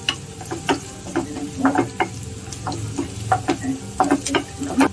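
Onions, garlic, curry leaves and green chilies sautéing in a pan, with frequent quick stirring clinks and scrapes over a soft sizzle, close and fairly loud with no talk.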